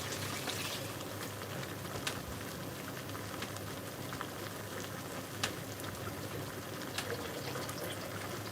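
Water runs steadily from a tap for hand washing in a kitchen while pork cooks, a faint, even rushing hiss with small splashes and no voices.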